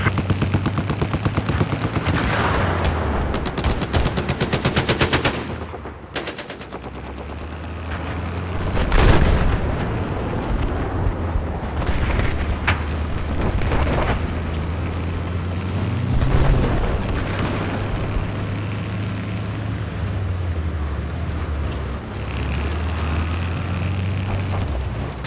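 Battlefield game combat with a missile launch and explosions: dense, continuous gunfire and booming blasts with a heavy rumbling low drone, two louder explosive bursts standing out, no talk.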